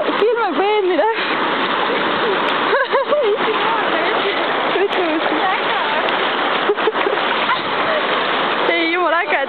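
People wade into cold flood water, with repeated splashing and sloshing close by, while voices chatter and exclaim throughout.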